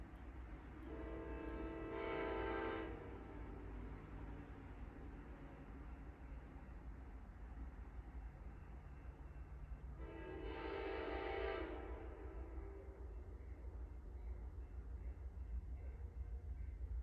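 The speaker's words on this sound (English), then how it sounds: "The dash magnet is actually pointing us in the right direction to hopefully get a nice video of Amtrak coming by." An Amtrak passenger train sounds its horn twice, with two long, distant blasts several seconds apart over a steady low rumble of the passing train, heard faintly from some distance.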